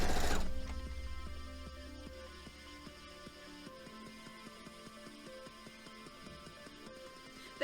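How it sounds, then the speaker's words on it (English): A sewing machine stitches quilt fabric over pins, a faint, steady rhythmic ticking clatter of the mechanism running alone for several seconds. "Somebody put a clip in my Discord of Looney Loomworks using a sewing machine"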